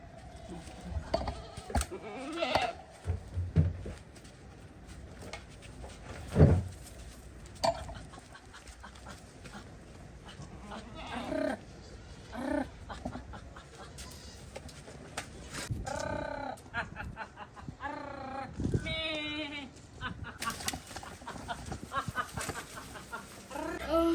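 Goats bleat in a village home, scattered cries at intervals over about twenty-four seconds, mixed with people talking and general household bustle.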